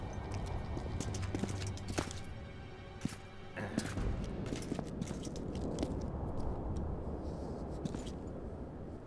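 Hooves of Roach, Geralt's horse in the video game The Witcher 2: Assassins of Kings, clip-clop steadily at close range over game ambience, with a few sharper knocks and a faint snort now and then.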